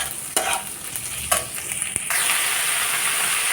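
Cut eggplant and potato pieces hit a pan of fried onion and garlic. A few quick stirring clatters give way to a loud, steady hiss of sizzling oil up close, with no talk.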